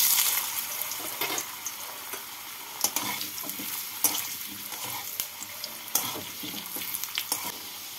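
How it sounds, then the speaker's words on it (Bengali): Potatoes fry in hot oil with a steady, close sizzle, and sharp bursts of spatter and stirring clatter land every second or so. No one speaks. "তেলটা গরম হয়ে গেছে, এই তেলের মধ্যে প্রথমে আলুগুলোকে ভেজে তুলে নেব।"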